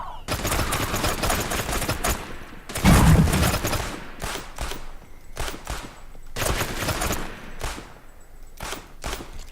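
Pistol gunfire in the video game Realm Royal rings out in repeated rapid bursts of sharp shots separated by brief pauses, loud and close throughout.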